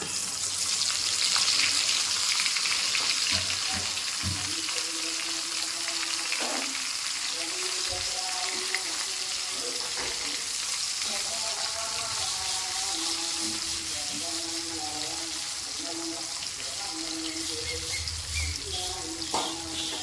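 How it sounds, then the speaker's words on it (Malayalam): Dried mackerel pieces fry in coconut oil with a continuous, dense sizzle that stays steady throughout, close to the pan, and light clinks and faint tonal sounds come through now and then. "അത് നമുക്ക് എണ്ണയ്ക്കകത്ത് ഇനി വറുത്ത് കോരി എടുക്കാം"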